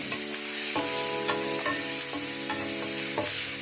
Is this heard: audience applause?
no